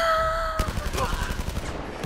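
A gun in the Blood & Truth game fires a rapid, steady string of loud shots after a sharp tone cuts off, with a voice heard faintly under the burst.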